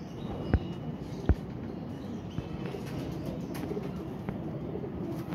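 Pigeons, flying breeds kept by a fancier, coo softly in a steady murmuring stream, with a couple of sharp knocks or taps near the start and light background noise throughout.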